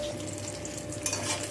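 Pabda fish fry in hot oil in a pan, giving a steady close sizzle and crackle with a brief clink of a utensil.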